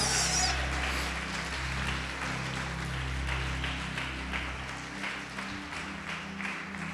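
A church congregation claps together in sustained, steady applause that fills the room, with a faint voice underneath, gradually easing toward the end.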